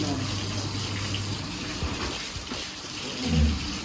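Water running from a motor pump pipe, a steady broadband gush that stays constant and fairly loud throughout, with a brief low thump near the end.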